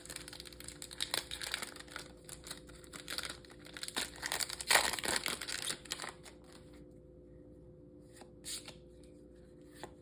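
Foil Magic: The Gathering booster pack from The Lord of the Rings set being torn open, crinkling and rustling up close in uneven bursts, ending in a brief rustle after a quiet pause.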